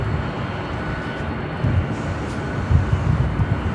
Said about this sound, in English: the third British Airways flight of the day, the A380, flight 269, also heading here to the north side